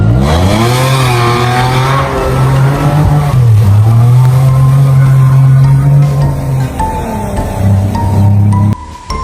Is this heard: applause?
no